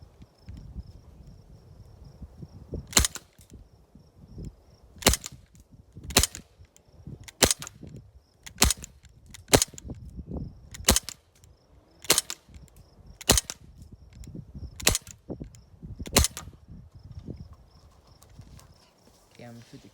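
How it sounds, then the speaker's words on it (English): A Crosman Mako CO2 pistol fires about ten sharp, loud shots at a can, spaced a second or two apart, with a person talking quietly between shots. "Okay, I'm gonna shoot the can now."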